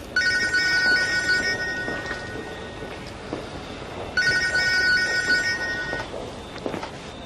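A telephone rings in two electronic bursts, each about two seconds long, over quiet room tone.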